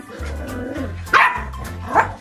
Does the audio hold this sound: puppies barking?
yes